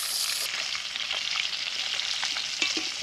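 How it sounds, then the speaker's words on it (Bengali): Pieces of koi fish fry in hot oil in a pan, producing a steady close crackling sizzle with small pops and spits scattered throughout. "তেল কই মাছে দুটো পিস সমান ভাজতে নাই, একটা একটু লাল বেশি ভাজতে হয়, একটু কম ভাজতে হয়।"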